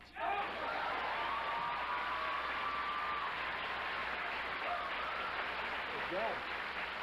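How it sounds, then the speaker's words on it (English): A quiz-show audience applauds a contestant's correct answer in a steady wash of clapping that carries evenly through, with a faint voice or two mixed in. "You deserve all that applause"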